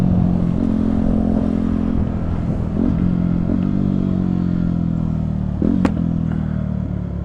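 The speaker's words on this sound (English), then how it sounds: "Traffic." Steady engine drone moving through road traffic, presumably from a carbureted bike, with a few passing clatters and a brief sharp knock near the end, close and fairly loud, with no talking.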